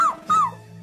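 A cartoon puppy gives two short, high yips in quick succession, each a rising-then-falling squeaky whimper, close and clear, followed by a faint hum.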